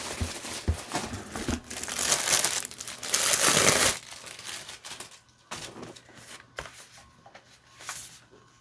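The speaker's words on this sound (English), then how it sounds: "as soon as I get it out of the packaging, out of the plastic, I will show you the packaging." A makeup brush set is pulled from its plastic packaging, with loud, close crinkling and rustling of plastic in continuous bursts, then quieter intermittent handling and crackles.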